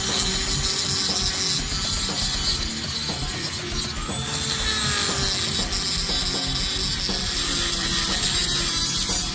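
Ratchet with a clean, snug-fitting socket clicks steadily while loosening a bolt during an oil change, a rapid mechanical ratcheting running through the whole stretch amid metallic workshop clatter.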